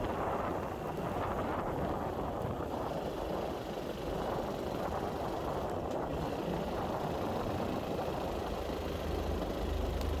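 A motorbike engine climbs a hill road near a hilly village, a steady, fairly loud rumble mixed with heavy wind buffeting throughout, with no talking.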